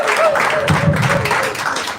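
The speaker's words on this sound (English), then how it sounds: "A round of applause for Team Paradetect" An audience applauds Team Paradetect at a live university chapter event. The clapping is dense and steady, with a faint tonal murmur mixed in, and it holds for the full two seconds.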